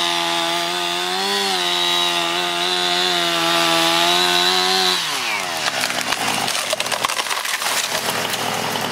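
A chainsaw runs steady and loud at high revs while felling a tree, then the engine note drops and gives way to cracking, splintering wood as the trunk gives and falls.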